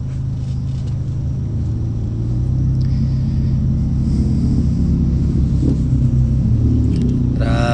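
Road traffic on the Skyway, a continuous heavy low rumble of vehicles with wind buffeting on the microphone, growing slightly louder partway through.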